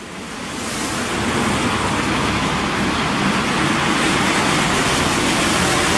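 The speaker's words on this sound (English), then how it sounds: "lots of heavy traffic" Heavy road traffic streams past outside a small ground-floor shop, a dense, continuous roar of tyres and engines. It swells over the first second, then holds loud and steady with no talk.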